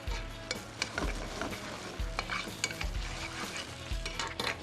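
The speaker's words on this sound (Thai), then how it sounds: "เดือดแบบนี้แล้วผมใส่หอมใหญ่ก่อนครับ" Onion cooks in a boiling Thai sweet and sour sauce, giving a steady close bubbling sizzle with regular low thumps and spoon scrapes against the pan.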